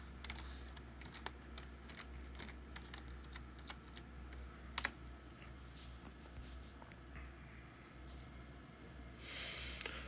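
A password being entered on a computer keyboard, a faint run of irregular key taps over a low steady hum, close but quiet.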